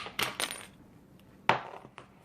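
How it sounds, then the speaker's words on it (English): Sharp metallic snips of chandelier wire being cut by hand, a couple of quick clicks early on followed by one crisp, louder cut, close and with no talking. "I'm just going to cut it right there."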